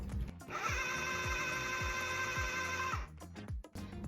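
A food processor blends a dry, crumbly vegan ricotta mixture with a steady motor whine for about two and a half seconds, then stops. Rhythmic low thumps sound throughout as the mixture knocks inside the bowl.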